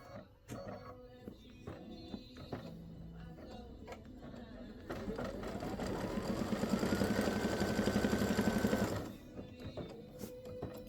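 An embroidery sewing machine stitches a Halloween pumpkin design, starting with scattered clicks and short runs, then rising into a loud, fast rhythmic stitching whir that holds for several seconds before stopping abruptly and returning to sparse clicks.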